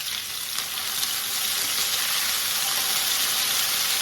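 Diced potatoes and chorizo fry in a pan, giving a steady, close crackling sizzle with a hiss that holds without letup for several seconds.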